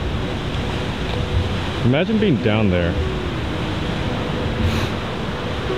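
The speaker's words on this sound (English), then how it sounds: "Would not want to mess with those waves." Ocean waves roll below a Hawaiian golf course as a broad, steady roar of surf mixed with wind noise, while someone speaks briefly partway through.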